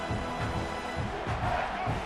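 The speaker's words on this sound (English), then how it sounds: "This crowd bringing the energy and noise early" College football stadium crowd, a broad, steady roar of many voices at moderate level with slight swells, no single speaker standing out.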